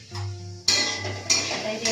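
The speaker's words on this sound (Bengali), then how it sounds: "5 মিনিট পরে আমি ঢাকনিটি সরিয়ে নিলাম।" A lid is lifted off a pan of vegetables frying in a little oil over low gas for kids' fried rice, giving three sharp metallic clanks and clatters close by, with no talking.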